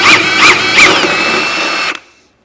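A power tool spins a shock absorber nut on a Vauxhall Corsa C, a loud close whine pulsing a few times and then holding steady before cutting off abruptly into silence.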